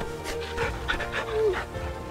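Torgal, the dog in Final Fantasy XVI, pants in quick soft breaths with a faint whimpering tone, close and continuous beneath game ambience.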